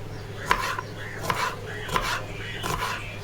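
A knife cutting food into small pieces, four evenly spaced chopping knocks against a board, moderately close, over a steady low background hum.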